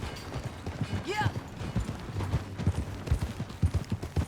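Horse hooves clip-clop at a steady riding pace in Red Dead Redemption 2, a soft rhythmic trot with brief speech over it.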